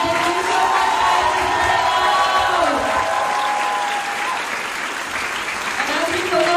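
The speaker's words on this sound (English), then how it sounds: "All right, one final round of applause for Hasan." A university audience at Stanford gives a big round of applause and cheering, a dense sustained roar of clapping with whoops and shouted voices rising above it, loud and continuous throughout.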